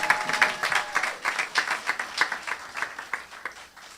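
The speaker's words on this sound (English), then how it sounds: "give all of the students who are in the room a round of applause from Ile Omode" A room of people gives a round of applause for students at an alumni day gathering, a moderate burst of many hands clapping in quick uneven rhythm that slowly thins toward the end.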